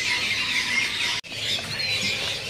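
A crowded chorus of caged birds at a bird seller's kiosk squawks and chatters without pause, loud and close, broken only by a split-second gap midway.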